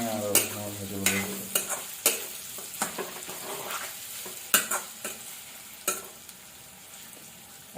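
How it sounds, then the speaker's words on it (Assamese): Meat frying in a pan sizzles softly while a spatula scrapes and clatters against the metal in irregular strokes, close and fairly quiet, with no talking. "মাংসটো অকণমান ৰঙা হোৱাকৈ ভাজিব লাগিব"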